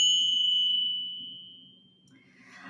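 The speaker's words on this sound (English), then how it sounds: "then our favorite bells. Everybody loves the bells." A bell used to clear energy rings once at the start, a clear tone that lingers and slowly fades over a low hum before faint shimmering chimes rise at the end.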